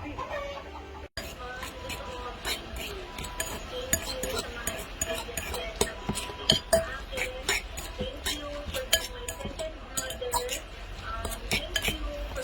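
Lumpia shanghai filling with egg being mixed in a bowl, producing steady wet stirring with repeated light clinks of a utensil against the bowl, close by, with people chatting and a chicken clucking in the background.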